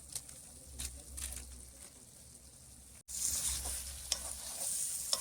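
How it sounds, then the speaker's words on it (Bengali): Spices being worked by hand into young goat meat at a winter-night picnic with friends: soft, wet squishing and rubbing, close by, which briefly stops and then resumes louder and busier. "মশলা মাখানো চলছে।"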